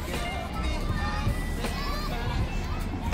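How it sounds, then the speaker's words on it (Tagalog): Many children play on a beach in Fujairah, their overlapping shouts and chatter forming a lively, continuous crowd din near and far, with an adult talking over it. "Tapos maraming bata naglalaro."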